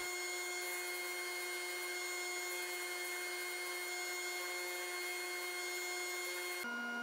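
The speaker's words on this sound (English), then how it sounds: "I went over to the disc sander and I removed that bottom piece that I used for the chuck" A disc sander grinding the bottom off a wooden firewood vase, a steady loud whining drone holding through the whole stretch, shifting pitch near the end as the wood presses in.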